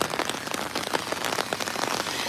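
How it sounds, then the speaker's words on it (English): Steady rain pours down over an outdoor charity walk, a dense, constant patter of drops hitting the ground and surfaces nearby, with no talking. "you get a lot of people walking out in the rain"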